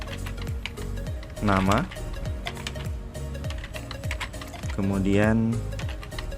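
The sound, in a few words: typing HTML code on a computer keyboard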